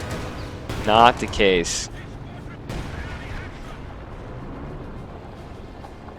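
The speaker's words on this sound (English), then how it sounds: "This side has been hit with so much artillery." Artillery fire in Company of Heroes 2 lands as a cluster of loud booming blasts and crackling impacts early on, fading into a rumbling battlefield din while someone talks over it.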